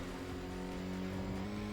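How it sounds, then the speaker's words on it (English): A car's exhaust tone in the Tokyo Xtreme Racer video game, a steady droning engine hum with strong low harmonics held at an even pitch, continuous and fairly quiet, with no talking. "So this view is pulling from the exhaust tone."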